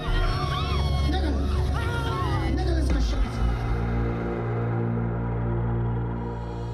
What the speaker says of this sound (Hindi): प्रार्थना खत्म होते ही पंडाल में चीख पुकार मच गई